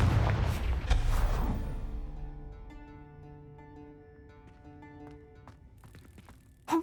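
A fire spell in Hogwarts Legacy bursts with a loud boom at the start, then its rumble decays over several seconds into quieter tonal ringing, with a sharp thump near the end.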